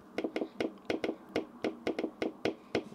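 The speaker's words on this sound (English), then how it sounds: "nice clicky responsive trackpad." Rapid series of sharp, close clicks from the trackpad of an iPad Pro keyboard case, about a dozen over three seconds in an uneven rhythm, with no talking.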